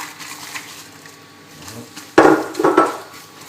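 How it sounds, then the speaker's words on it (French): Slivered almonds tipped into foaming caramel for nougatine, a faint bubbling background broken by a sharp metallic clatter and scraping of a utensil against the pan, then a second clink. "On va rajouter donc nos amandes effilées."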